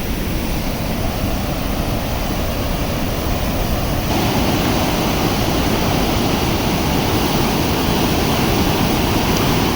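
Grand Falls in New Brunswick roars with a steady, dense rush of falling water, broadband and unbroken throughout, growing slightly louder and fuller partway through.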